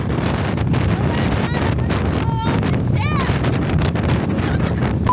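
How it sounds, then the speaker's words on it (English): Strong wind buffets the microphone over the wash of waves at sea, aboard a ship crossing the Atlantic, with faint whistling tones rising through the gusts. "it's windy and the wind is what's making these waves"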